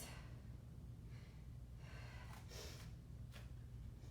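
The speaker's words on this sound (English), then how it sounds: "Oh, my nose is runny today, sorry. Allergies. Sorry for my little sniffles." A few quick, breathy sniffles through a runny nose from allergies, close and soft, spaced irregularly with no talking.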